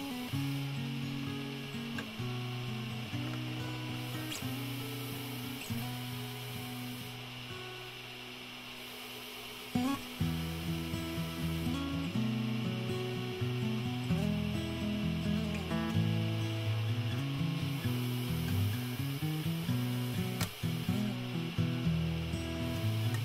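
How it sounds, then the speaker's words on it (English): A sander smoothing wooden trim sections flush against larger wood pieces on a woodworking setup, a steady machine drone with shifting tonal hum and intermittent rubbing and scraping as the pieces are pushed across, moderately loud throughout. "At your sander, sand the trim sections flush with the face of the larger pieces."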